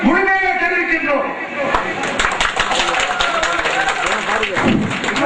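Audience applause at a public hearing welcoming the NSL power plant company, a broad wash of clapping that holds steady throughout beneath a loud amplified voice talking over it.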